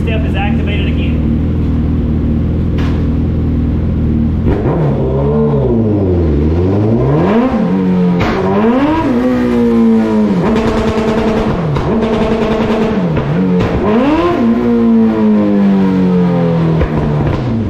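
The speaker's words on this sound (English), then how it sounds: "If we put the bike in gear, the bike will rev to the moon." A Suzuki Hayabusa motorcycle with a two-step limiter revs hard in gear with the clutch pulled, its engine note sweeping up and down through repeated loud, close bursts that rise to a high sustained scream, with voices talking over it.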